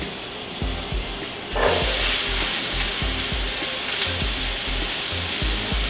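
Onion and mushrooms hit a hot pan for beef stroganoff, and a loud, steady sizzle starts up after a short quieter lead-in. The frying hiss carries on without a break, with a low rhythmic thumping underneath.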